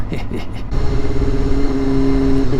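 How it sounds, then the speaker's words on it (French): A motorcycle engine hums steadily nearby with a low, droning tone, and a voice is heard briefly at the start. "Enfin, bon bruit, ma moto."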